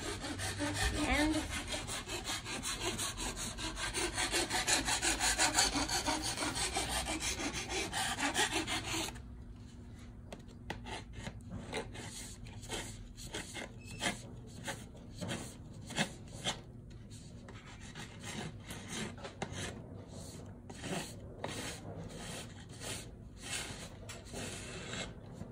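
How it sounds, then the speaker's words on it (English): A hand file rasps the rough cut end of a bamboo tube, first as a dense continuous scraping, then as a run of short, separate strokes, close and fairly quiet. "We can file down the rough edges with a file."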